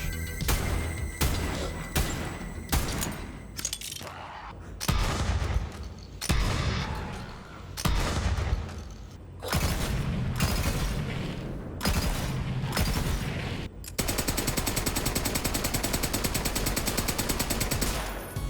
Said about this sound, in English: The gun audio and sound effects definitely support the satisfying part of the combat.